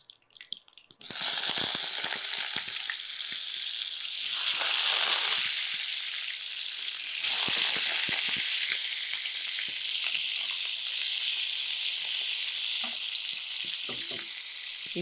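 Chopped raw banana goes into hot oil with mustard seeds and cumin and starts frying with a loud sizzle. A spoon stirs it now and then, and the steady hiss holds after the first second.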